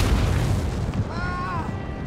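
Artillery cannons fire in a Napoleon Total War battle, a dense low booming rumble of distant shots with a brief whistling tone, heard beneath someone talking.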